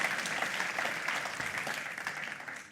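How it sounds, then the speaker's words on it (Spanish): Church congregation applauding during a Spanish-language sermon service, a soft, steady wash of clapping from a crowd, somewhat distant and fading slightly at the end. "Denle un aplauso al Señor"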